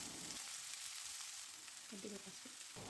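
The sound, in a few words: beans and onions frying in a pan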